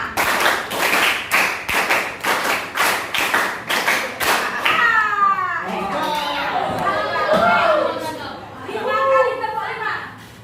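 An economics class claps in unison in a rhythmic pattern of three sets of five claps, sharp and evenly spaced at first, then breaking into children's chatter and voices.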